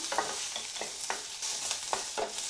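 Drumstick pieces are stirred in hot oil in a pan for sambar, giving a soft sizzle broken by quick, repeated scraping strokes, quiet and close.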